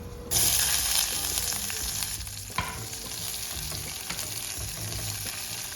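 Sliced onion fries in a pan with cinnamon, cloves and black cardamom, a loud steady sizzle with occasional stirring scrapes and clinks, close up and without talk.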